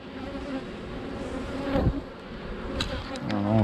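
Honeybees buzz in an opened beehive, a dense steady drone close by, with individual bees swelling louder as they pass near.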